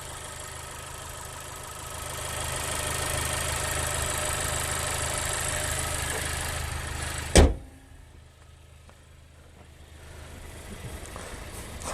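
A Honda car engine idles quietly with a steady low hum. A sharp click or thump comes near the end, after which the engine sounds softer.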